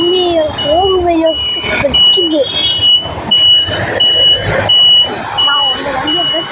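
A vehicle backs out with a repeating electronic reversing beep, steady pulses heard under ongoing conversation and street noise.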